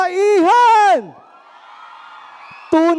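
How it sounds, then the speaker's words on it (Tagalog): Women at a barangay women's group gathering during a summer sports fest shout and cheer: a loud, sustained high-pitched whoop, then a low background murmur, then another sharp shout cuts in at the end. "Kaya sigaw ang lahat ng kababaihan!"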